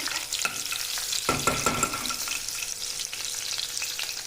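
Ingredients fry in a pan with a soft, steady sizzle, broken by sharp clinks and scraping from a utensil stirring, heard up close and fairly quiet.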